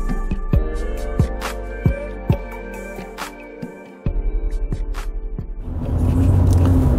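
A Mitsubishi Pajero driving off-road on light off-road tyres, its engine a low steady rumble with sharp knocks and thumps from the suspension over rough ground, then a surge of louder roaring near the end.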